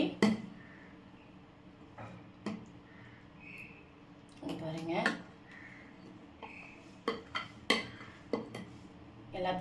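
Spoon clinks and scrapes against a bowl while spicy green gram kuzhi paniyaram batter is mixed, with scattered sharp knocks and a busier burst of clatter midway, and a voice talking underneath.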